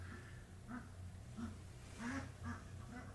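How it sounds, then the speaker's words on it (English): Domestic ducks give a quiet series of evenly spaced quacks, about six short calls in three seconds, heard faintly from off to the side in an indoor room. "so sorry if you hear that quacking"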